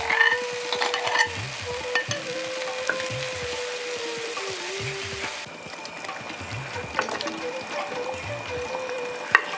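Butter chicken sauce with coconut yogurt is stirred in a pan, a spoon scraping and sloshing rhythmically over a steady sizzle, close and alone.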